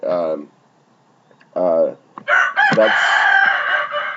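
A rooster crows nearby in a North Little Rock neighborhood, a loud, drawn-out call that follows two shorter bursts of sound with brief quiet gaps between them.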